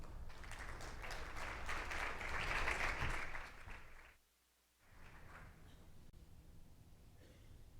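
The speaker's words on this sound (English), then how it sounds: "A round of applause, please, Carol." Applause from a symposium audience for a women's football event, a dense burst of clapping for several seconds that cuts off abruptly, followed by quieter room noise.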